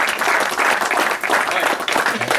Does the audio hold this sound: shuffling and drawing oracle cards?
no